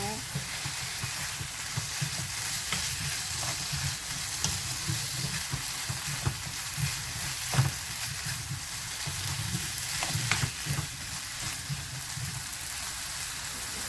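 Pork neck and potato chunks sizzle and crackle steadily in a hot pan while being stir-fried for a spicy jjageuli stew, a dense, even frying hiss with occasional scraping stirs and no talking.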